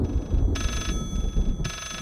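A telephone in the horror game Layers of Fear rings in two bright metallic bursts over a dense, rumbling low background, fairly loud and close, with no voices.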